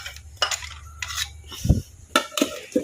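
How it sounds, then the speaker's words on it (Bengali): Kitchen clatter as a dish is covered with a lid in a home kitchen, several separate clinks and knocks of metal and crockery, close and fairly loud, with one dull thud partway through. "এটাকে ঢাকনা দিয়ে রাখি"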